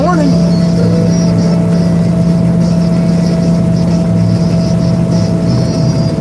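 A truck idles close by with a steady low engine drone and a constant mid-pitched whine, while a faint intermittent hiss comes and goes above it; someone talks at times over the running engine.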